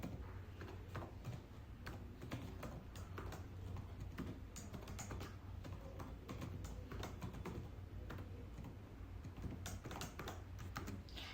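Python code is typed on a computer keyboard in a steady run of close, crisp key clicks with short pauses, with no talking over it.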